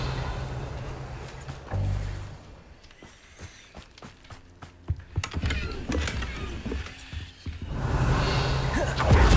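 Casting the Revelio spell in Hogwarts Legacy: a whooshing magical pulse gives way to a string of quick sparkling clicks and chimes, then a broad shimmering swell builds toward the end, with in-game movement underneath.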